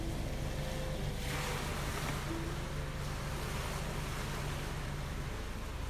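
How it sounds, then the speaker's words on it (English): Ocean waves surge and roll in with wind in stormy weather, a continuous rushing wash with a swell of louder surf partway through, heard from nearby without talking. "the waves are coming in, the winds are coming in."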